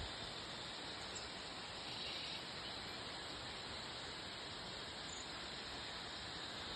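A small waterfall in Nepal, heard as a faint, even hiss of falling water that stays constant throughout with no voices.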